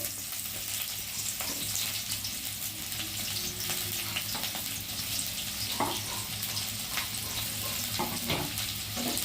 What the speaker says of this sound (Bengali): পেঁয়াজটাকে আমি লাল করে ভেজে নিব